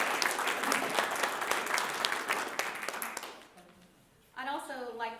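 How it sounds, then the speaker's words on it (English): An audience at a Texas Railroad Commission candidate debate claps to welcome a candidate, crisp individual claps over steady applause for about three seconds, fading out before a voice begins speaking. "Please help me one more round of applause to welcome our candidate"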